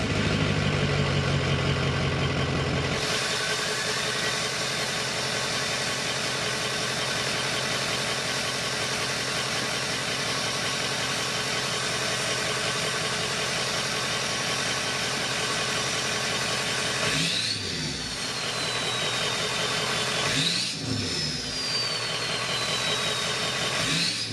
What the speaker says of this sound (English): this wouldn't be a true exhaust video without a downpipe exhaust clip